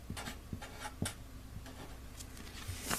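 Pen writing on paper while working through a unit-rate math problem, a close, quiet run of short scratchy strokes and taps with small pauses between them, no talking.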